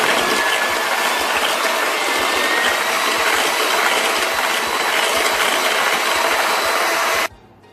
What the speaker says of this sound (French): je vais fouetter ma crème liquide